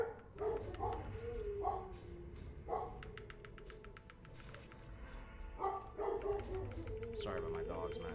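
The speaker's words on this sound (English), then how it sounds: "Sorry about my dogs, man." Dogs barking in short bursts and whimpering indoors, the yelps scattered through the clip over a steady background, with someone talking over them.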